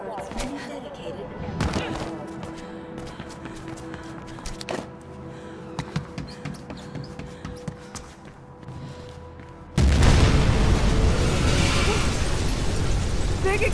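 A large explosion erupts in the Bauble Mall in the video game Mirror's Edge Catalyst, a sudden loud roaring blast that follows a stretch of scattered sharp pops and impacts over background music.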